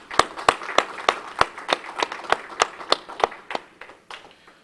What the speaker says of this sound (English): give a big round of applause to all the staff members from Congressman Greg Pence's office